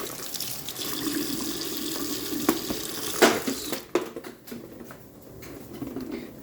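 Water splashes from a tap into leftover rice being rewarmed on higher heat, a steady close patter running throughout with a few brief sharper splashes midway.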